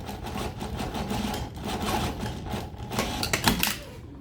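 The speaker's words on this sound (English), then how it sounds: "there is an edge stitching to hold this down" Sewing machine running an edge stitch along fabric on a bustier with an eyelet closure, a steady close mechanical whir with rapid needle clatter throughout, a few louder knocks near the end, no talking.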